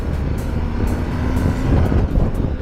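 A 2021 BMW R 1250 GS motorcycle on the road while downshifting, its exhaust crackling and popping in a string of close, sharp bursts over a rumbling engine and wind noise.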